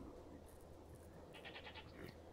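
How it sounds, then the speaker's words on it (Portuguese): A goat in the survival video game SCUM gives a few short, faint bleats over a low, steady background hum. "Ué, tem uma cabra aqui, galera."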